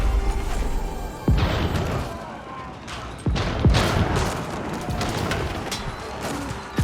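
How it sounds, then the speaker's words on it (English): Bombard cannons fire in an Age of Empires battle against mangonels, heard as a dense clatter of booming shots and impacts, with sharp loud blasts near 1.3 and 3.3 seconds over continuous battle noise. "Bombards doing a good job of sniping some of these mangonels."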